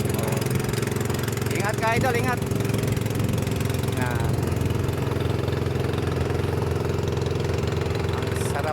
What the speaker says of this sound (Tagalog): May bangka oh.